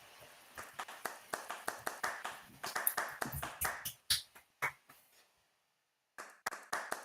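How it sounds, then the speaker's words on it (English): A handful of people clap for a presenter at an online presentation, sharp separate claps that build into a ragged patter, die down into near silence, then return briefly, with a single short spoken word. "a round of applause for him"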